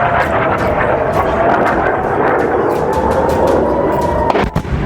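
Iranian missile strikes on Israel: a loud, continuous roar is punctuated by repeated sharp bangs, ending with a heavier blast near the end.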